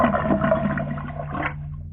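Toilet flush in the horror video game Decay, a single rushing gurgle of water lasting about a second and a half, then draining away over a low steady hum, with no voices.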